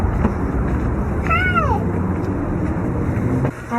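A single short meow from a pet cat rises and falls in pitch, close and fairly loud. Steady background noise runs underneath, and there is no talking.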